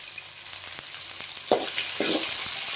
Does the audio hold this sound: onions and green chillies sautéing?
yes